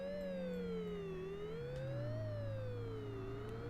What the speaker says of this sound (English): I think that police car's past me, isn't it?